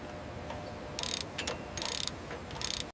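A torque tool ratchets while tightening a mounting point on an aircraft cowling in a Boeing 787 factory: three short, crisp bursts of rapid clicking, close by, separated by pauses over a steady low hum of factory background.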